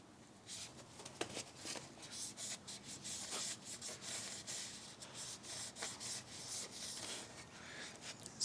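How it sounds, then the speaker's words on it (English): Cloth wiping excess silicone away from a newly fitted front crankshaft seal on a BMW E90 328i N52 engine, a faint, close, continuous rubbing with small scuffs and no talk. "we can wipe out the excessive silicone right now"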